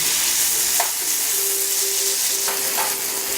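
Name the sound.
garlic and grated tomatoes frying while stirred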